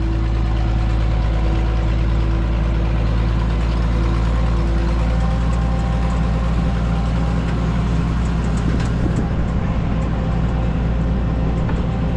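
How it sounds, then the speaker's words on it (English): An old tractor engine idles loud and close, its steady low rumble carrying the raspy puffing of an exhaust manifold gasket leak, running continuously without talk. "it's got an exhaust leak on the, I think an exhaust manifold gasket."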